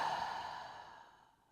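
A single long exhale through an open mouth during a yoga breathing exercise, close and breathy, fading away over about a second and a half.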